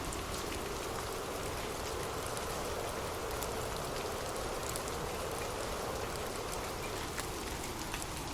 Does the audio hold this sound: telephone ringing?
no